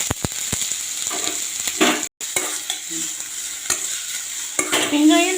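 Finely chopped onions fry in oil in a pan for a Tamil mutton lung gravy, giving a steady close sizzle broken by scraping stirs from a spoon.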